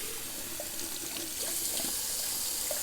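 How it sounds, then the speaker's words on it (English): Cold water runs steadily from a bathroom tap to rinse a shaving brush, a continuous hiss with small splashing bursts throughout. "All right, a little cold water rinse."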